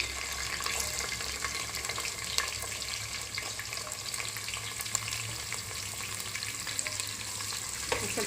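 Onions and curry leaves fry in a pan for avalakki bisibelebath, giving a dense, steady sizzle with occasional stirring clicks, close and continuous.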